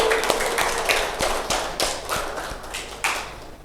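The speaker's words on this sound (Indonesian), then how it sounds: "Beri tepuk tangan yang meriah kepada kelompok 2." Students in a classroom applaud a presenting group with a few seconds of lively, fairly close clapping. The sharp individual claps stand out through the patter.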